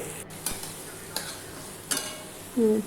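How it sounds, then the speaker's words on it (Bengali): Potato peels with salt and turmeric frying in a pan while being stirred, producing a soft sizzle under a few scraping strokes of a spatula and a short metallic clink at the end, with no voices. "এবার একটু নাড়াচাড়া করে রান্নাটা করে নেব।"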